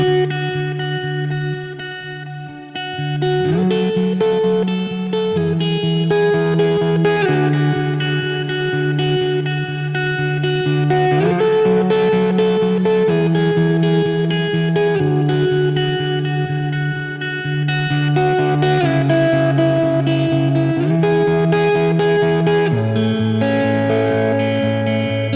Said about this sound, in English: It's kind of like a slapback delay, and there's some shimmer reverb in here as well.